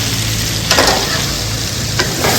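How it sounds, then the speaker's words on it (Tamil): Onions, curry leaves and green chillies sauté in a pan for a baby potato dish, giving a loud, steady sizzle broken by a couple of brief stirring scrapes, with no talking. "வெங்காயம் கறிவேப்பிலை பச்சை மிளகாய் இதை முதல் நல்லா வதக்குறோம்"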